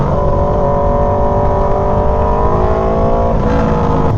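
An Aprilia Tuono V4 motorcycle on a ride gives a loud, close, steady engine drone whose pitch climbs as it accelerates, with a brief shift near the end.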